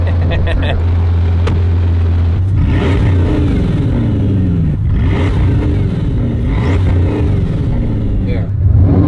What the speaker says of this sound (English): So it's like turbo noise. It's four turbos.